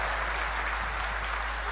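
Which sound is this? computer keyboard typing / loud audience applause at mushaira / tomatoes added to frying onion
loud audience applause at mushaira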